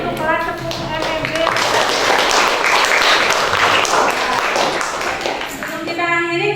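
Classroom applause for a tenth-grade class at the end of a lesson, a few seconds of clapping from students that rises and fades, with a teacher's voice around it.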